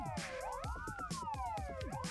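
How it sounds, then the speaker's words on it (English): A siren wails in a Soviet city-building game, Workers & Resources: Soviet Republic, its tones sweeping up and down repeatedly, fairly quiet under a busy clatter of other game sounds. "It sounds like a siren."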